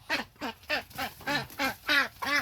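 A Muscovy duck calls in a rapid, even series of about eight raspy quacks, loud and close, with nothing else heard.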